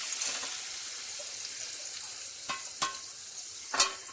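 Meat frying in a pan for Russian korma, a continuous bright sizzle with a few sharp scrapes and clicks of a spoon near the end, no voices.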